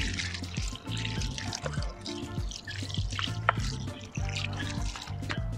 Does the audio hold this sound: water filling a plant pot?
yes